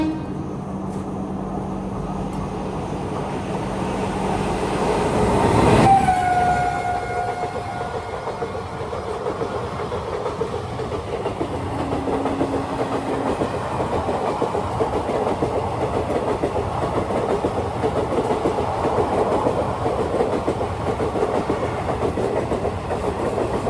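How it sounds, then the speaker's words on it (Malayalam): Ratnachal Express passing through a station in the rain, a long steady rumble and clatter of wagons with a brief horn-like tone and a sharp whistle early on, heard from an adjacent train. "ട്രെയിൻ വരികയാണ്."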